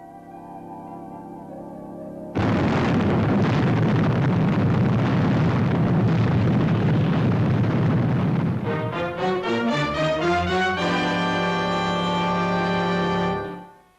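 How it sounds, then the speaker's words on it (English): Sound-effect explosions from the Fireball XL5 puppet TV series: after a quiet start, a loud, sustained roaring blast of rumbling booms runs for several seconds, then gives way to a ringing, tonal electronic effect before cutting off. "That's the 7th explosion, Commander Zero."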